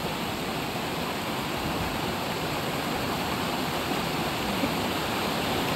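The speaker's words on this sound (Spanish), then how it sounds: "yo ya estoy arriba en la cascada" The Devil's Waterfall in Santo Domingo, heard from the top of the falls as a steady, dense roar of falling water that fills the whole clip at constant loudness, with no voices.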